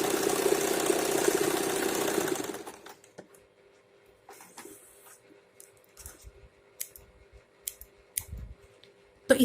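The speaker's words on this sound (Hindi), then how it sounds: "अब मैं मशीन जाके इन दोनों में सिलाई लगा लूंगी।" Domestic sewing machine stitching elastic into palazzo pants: a steady loud motor whir for the first two seconds, then it stops, leaving quiet handling clicks and soft thumps of fabric and machine parts.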